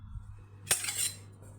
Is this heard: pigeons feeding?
no